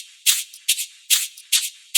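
A dubstep-intro shaker loop plays alone, bright, crisp rattling hits in an even, repeating pattern of short bursts, close and fairly quiet.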